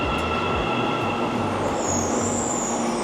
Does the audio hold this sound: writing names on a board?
no